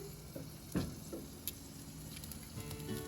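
Duck skin crisps on a rotisserie over a Masterbuilt 560 gravity-feed charcoal grill at about 500 degrees, a quiet, steady sizzle scattered with small pops and crackles.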